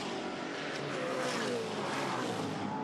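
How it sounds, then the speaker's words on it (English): A V8 muscle race car spins out in front of the race leader at Pukekohe during a closing-stage race, engine roar and tyre noise sustained and loud throughout. "he spins right in front of the leader"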